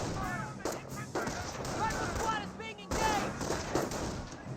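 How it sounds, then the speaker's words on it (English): Rifle and machine-gun fire crackles through an infantry battle between riflemen and Panzer Grenadiers in Company of Heroes, with repeated bursts and distant booms running under a commentator's continuous speech. "Riflemen and Panzer Grenadiers are engaging."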